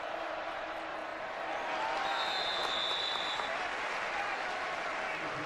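Football stadium crowd at a Baylor vs Kansas State game roaring steadily, a broad continuous wash of distant cheering and clapping with no break, swelling slightly midway.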